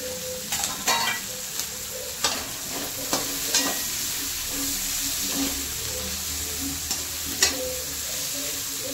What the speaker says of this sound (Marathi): मी ते ही जी कोबी बारीक केली होती ती पण त्याच्यामध्ये सोडून देत आहे